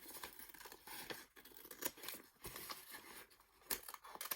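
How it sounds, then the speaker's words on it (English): Scissors cut through paper for a collage calendar, giving soft, faint snips and rustling crinkles in a quiet room, with no one speaking. "I'm going to cut down here"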